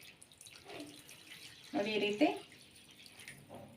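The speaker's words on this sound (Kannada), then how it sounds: "ಈಗ ನೀರು ಸೇರಿಸ್ಕೊತಾ ಇದ್ದೀನಿ" Water is poured in a kitchen over lentils to soak them for a festival holige filling, a short close splashing burst midway while someone talks before and after.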